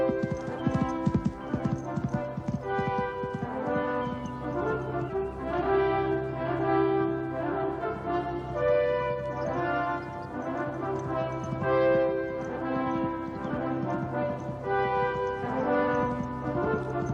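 Thoroughbred horses galloping, their hooves striking in a quick, even rhythm throughout, carried under a swelling orchestral music bed.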